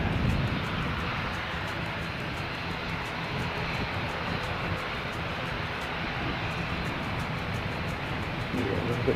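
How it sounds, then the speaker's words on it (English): An aircraft engine runs steadily on a test stand at an airport, a continuous broadband roar with a faint high whine holding level throughout, with no voices over it. "have a look at this aircraft on the test stand over here"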